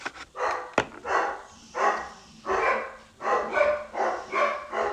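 Dogs barking in a rapid, regular series of loud, close barks, one after another with brief gaps, no talking over them.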